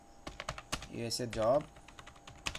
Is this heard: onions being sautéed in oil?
no